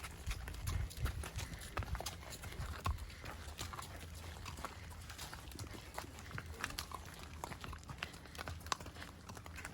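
Horse hooves clip-clop steadily and close by during a ride in Dajti Mountain Nature Park near Tirana, Albania, with people chatting around and over the rhythmic footfalls.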